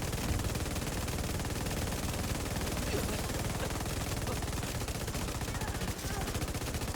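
Sustained rapid weapon fire in a video game, a dense unbroken rattle of shots like machine-gun bursts filling the whole stretch at steady loudness, with no pauses and no audible talk.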